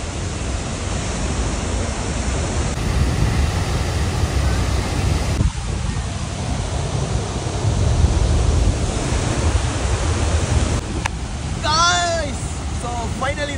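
Heavy spray and rushing water roar steadily at a scenic waterfall spot on a Tamil Nadu–Kerala trip, a dense continuous wash close by, with brief voices and whistling breaking through near the end.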